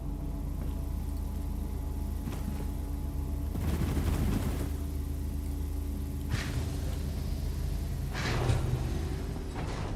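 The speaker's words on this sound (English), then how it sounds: "What is with the periodic cannon noises?" Periodic cannon fire in the space game Star Citizen, a few broadband bursts near 4, 6.4 and 8.3 seconds over a steady low ship hum, moderately loud and fairly distant, with no talk.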